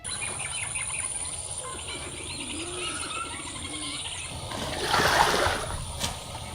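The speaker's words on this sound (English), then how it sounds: "birds chirp in the early morning, heralding the amazing grace of a new day" Soft bird calls and cooing drift over a quiet, steady background hum during an early-morning boat ride, with a brief brighter burst of chirping near the end.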